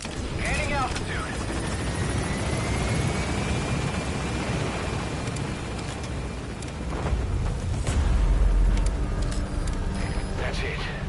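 Helicopter lifting off during an extraction in Metal Gear Solid V, its loud whirring rotor roar holding steady and swelling toward the end under faint radio chatter.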